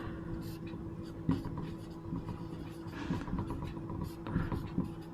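Pen moving across paper during a Hindi-language lesson on Indian polity, a soft continuous scratching with small rhythmic strokes and a few sharper taps, close and fairly quiet with no talking over it.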